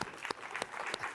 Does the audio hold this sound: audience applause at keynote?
yes